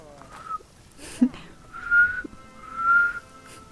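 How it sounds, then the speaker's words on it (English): A person whistling a few short tones: a brief note, then two longer sustained whistles, close and moderately loud over a quiet room, with a faint breathy sound between them. "I'm not very good at whistling."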